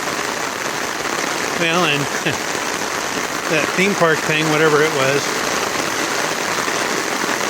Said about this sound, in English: it's been kind of raining off and on. It's pretty constant since then